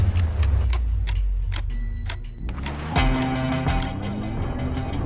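A car launches from a standing start on a snowy straight during a winter race, its wheels spinning and slipping. The engine surges loudly and close midway through, accompanied by mechanical clatter and rattling.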